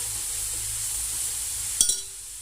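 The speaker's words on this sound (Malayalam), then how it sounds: "അപ്പോൾ ഞാൻ നല്ലോണം ഇളക്കി കൊടുക്കട്ടെ." About sixteen small and large onions fried and stirred in a pot for Thalassery beef biryani: a constant low hiss of frying, then a sharp clink of the spoon near the end.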